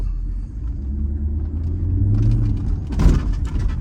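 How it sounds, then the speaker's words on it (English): A 2003 Mercedes with ABC suspension and no hydraulic fluid rumbles low and steady while driving, with one heavy thud late on. "you're hearing your ABC suspension with no hydraulic fluid absorbing or playing the role of dampeners on your struts"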